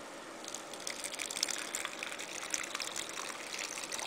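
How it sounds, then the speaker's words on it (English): Water pouring steadily into a dish for a pet, a continuous soft splashing gush throughout, fairly quiet and close, with no voices. "So what I'm going to do is I'm going to give her some water in her dish."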